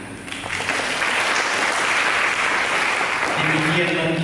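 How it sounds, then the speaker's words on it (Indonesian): Church congregation applauding during a sermon, a dense steady wash of clapping that swells and holds, with some voices mixed in. "Mari kita berikan tepuk tangan."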